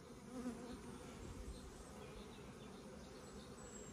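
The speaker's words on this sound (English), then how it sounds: "look at this passage of bees. Still massive flying." A steady, faint hum of many bees buzzing around, continuous and low, with no talking.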